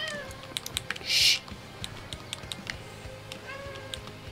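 A cat named Taz lets out one short, high whining meow partway through, faint against soft keyboard clicks and low room noise, with no speech.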